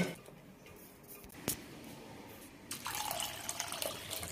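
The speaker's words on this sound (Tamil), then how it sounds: "ரெண்டு தடவை நல்லா வாஷ் பண்ணி தண்ணியை கீழே விட்டுலாம்." Water pours and splashes as red poha (flattened rice) is rinsed in a bowl, with a brief clatter, then a louder stream of water running steadily near the end.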